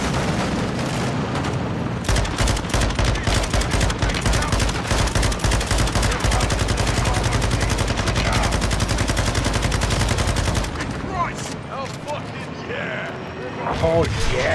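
An intense Call of Duty Modern Warfare 2 gunfight during the prison break mission, with dense rapid automatic gunfire and booms over a loud battle din, easing after about ten seconds while voices talk.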